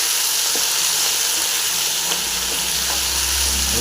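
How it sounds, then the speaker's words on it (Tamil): Kovakkai (gherkins) fry in a pan with a loud, close, continuous sizzle and hiss, with a few faint stirring taps underneath and no talking. "கோவக்காய் ஃப்ரை ஆகிட்டு வருது."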